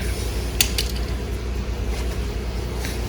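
A handlebar switch bolt on a Venom motorcycle is tightened by hand, giving quiet close ratcheting clicks and small metallic ticks in an irregular rhythm over a soft room hum.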